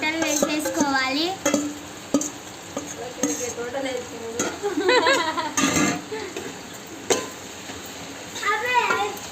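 Marinated chicken for biryani drops into a hot pan and fries with steady sizzling and stirring, pots clattering now and then, while a person talks over the cooking throughout.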